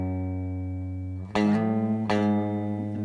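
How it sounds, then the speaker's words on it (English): Low, sustained guitar notes ring out in a deep register, with two sharp plucked attacks starting new notes partway through. "there's a couple notes on the baritone"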